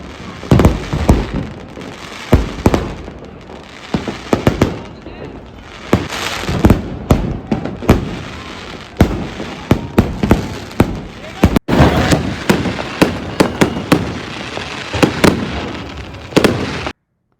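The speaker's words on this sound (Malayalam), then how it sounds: "ഭയങ്കര ബ്യൂട്ടിഫുള്ളാണ് ഈ ഫയർ വർക്ക്സ് ഒക്കെ നേരിട്ട് കാണുമ്പോൾ" Fireworks and firecrackers burst in Rajasthan as a dense, loud barrage of sharp cracks and booming pops, some near and some farther off, with crowd murmur underneath throughout.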